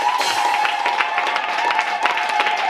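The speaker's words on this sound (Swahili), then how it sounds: "Shangilie Bwana Yesu kwa makofi." A church congregation claps rapidly and continuously in praise, dense and loud throughout with a crowd murmur beneath.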